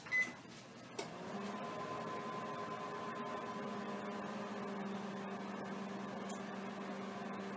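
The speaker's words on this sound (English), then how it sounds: "So, I'm going to set the microwave for 70 seconds." A microwave oven hums steadily while cooking a mug cake, a faint click and beep at the start and then a constant low drone with a whirring fan that runs throughout.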